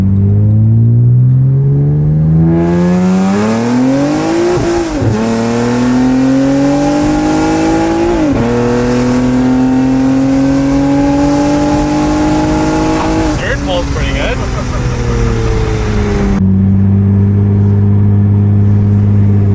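A loud car engine revs up through the gears over and over, rising pitched surges with brief dips between shifts, close and dominant throughout, ending in a rough idle.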